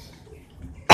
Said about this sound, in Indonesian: Sorry gua batuk.